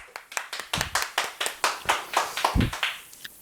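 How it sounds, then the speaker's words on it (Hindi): Rhythmic hand clapping at a motivational family-relations workshop, about a dozen crisp evenly spaced claps in a steady beat, fairly close, with a soft thump partway through and no talking. "ताली बजानी पड़ेगी"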